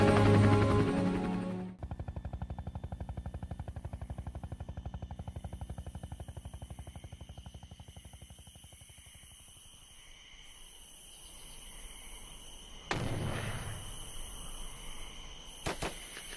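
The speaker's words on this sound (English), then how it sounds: "All I hear is some rifle shots and a few hand grenades off in the distance." Distant rifle shots and hand grenades during a Vietnam War hill battle: sparse faint cracks and a dull thump later on, over a steady rhythmic mechanical whir and insect-like buzzing.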